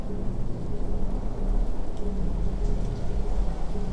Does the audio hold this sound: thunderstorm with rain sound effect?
yes